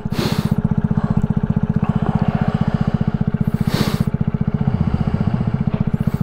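Amstar Nostalgia 50cc scooter engine idling just after a cold start, a steady rapid putter with a continuous loud clatter, close to the machine.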